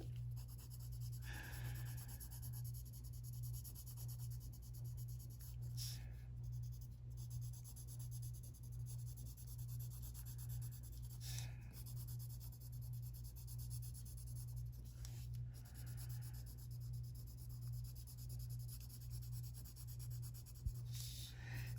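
A colored pencil in peach beige strokes straight up and down across paper, filling in a Mrs Grim Reaper coloring page with steady, soft scratchy rubbing in repeated bursts over a low constant hum.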